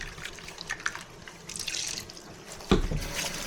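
Tap water runs into a sink as food is rinsed, a soft steady trickle with small splashes and a louder gush near the end, fairly close and with no talking.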